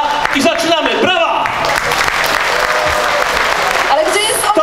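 Concert audience at an anniversary show breaking into loud, dense applause with a few shouts. A voice speaks over the start, then the clapping carries on steadily, close and full.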